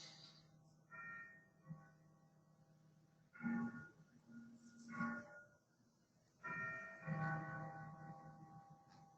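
A clock chimes like church bells, ringing several tonal strikes whose notes linger and overlap, fairly faint and close, heard alone.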